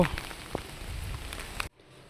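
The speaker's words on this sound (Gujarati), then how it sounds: "ચાલુ વરસાદે આવ્યો છો." Rain falls in a steady, moderate patter with a few sharper drops, fairly close, before cutting out abruptly near the end.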